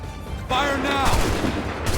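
A musket volley crackles out in Assassin's Creed 3, a dense burst of close gunfire lasting about a second and a half over shouted battlefield commands.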